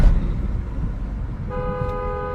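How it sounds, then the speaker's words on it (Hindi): An SUV's horn sounds a sustained honk partway through, a steady tone over continuous road and engine rumble from inside the moving vehicle. "हॉर्न सुनो आप इसका"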